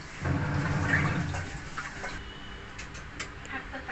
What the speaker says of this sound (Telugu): ఇప్పుడు వాటర్ అన్నీ కూడా లోపలికి బయటికి వెళ్ళిపోతున్నాయి చూడండి